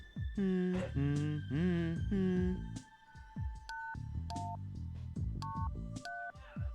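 Telephone keypad dialing tones from the adventure game Runaway, a sequence of clear steady beeps at varying pitches played one after another, preceded by a musical voice-like passage, loud and close.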